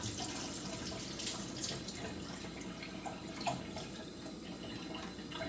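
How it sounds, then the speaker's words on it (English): Cold water running steadily from a kitchen faucet into a cup with corn syrup, a continuous close splashing stream with faint drips, no voices. "Half of a cup of cold water from the faucet to my corn syrup."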